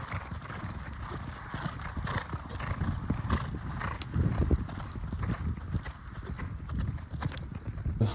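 Steady clip-clopping of a very big racehorse's hooves at Auteuil, fairly close and continuous, with a short whinny partway through.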